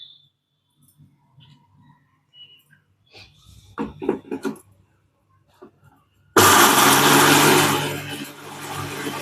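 A few faint clinks and taps, then a mixer grinder powdering roasted gram roars to life abruptly and runs loud and steady to the end, easing slightly as it goes.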